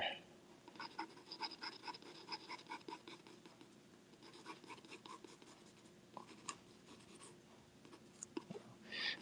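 A pencil sketching on paper, with close, scratchy strokes in quick bursts and short runs of rapid hatching, separated by brief pauses as the line work continues.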